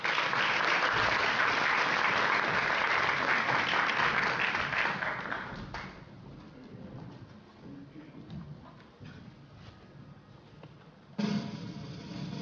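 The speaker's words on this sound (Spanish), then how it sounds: "Fuertes aplausos." Loud applause from an audience at a university scientific merit award ceremony, a dense burst of clapping that fades after about six seconds into scattered claps and room noise, then a brief louder swell near the end.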